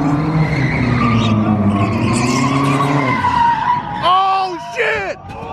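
Car tires squeal in a long skid at an underground car meet, a loud close screech that bends in pitch, with excited voices shouting over it and short squeals near the end.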